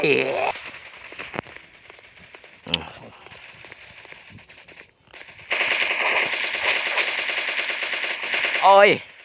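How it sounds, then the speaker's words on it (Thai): Rapid automatic gunfire from a video game shooter, with bursts and scattered single shots across the clip, growing louder and denser in the second half, with exclaiming voices mixed in. "ทำไมยิงไม่โดนเนี่ย"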